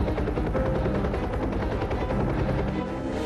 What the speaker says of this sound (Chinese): 印度登山客希特纳被发现时意识不清，全身抽搐，他性命垂危，雪巴救难队协助他登上直升机捡回小命。